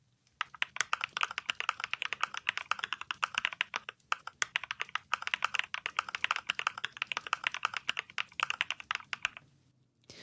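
Steady, fast typing on a mechanical keyboard fitted with Cream switches, a dense run of crisp, close keystrokes with an occasional heavier thock, stopping near the end.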